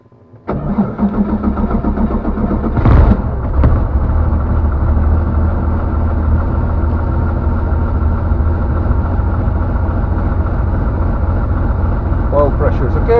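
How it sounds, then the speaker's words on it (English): Light aircraft PH-MNX engine cranking and catching, then settling into a steady, loud, continuous idle drone with a brief surge near the start, heard close up for the rest of the stretch. "So let's start the engine."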